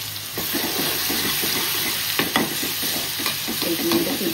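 Crushed chili, coriander and garlic go into a hot frying pan for a fish fry and sizzle steadily, with scattered stirring scrapes and clinks close up and no talk.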